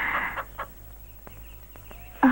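A chicken squawks and clucks in loud, flustered bursts as it is grabbed, in a Tamil comedy film scene, with sharp outbursts at the start and again at the end and quieter gaps between.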